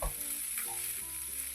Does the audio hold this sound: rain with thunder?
no